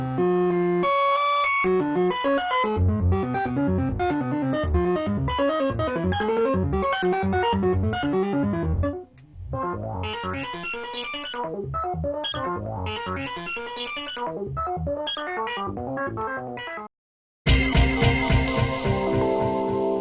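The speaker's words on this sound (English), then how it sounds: "the most fun is the sample and hold, which is controlled by this rate, the LFO rate" Synthesizer sample-and-hold noise burbling through rapid random stepped pitches, a busy continuous stream of blips that cuts out briefly near the end, then resumes.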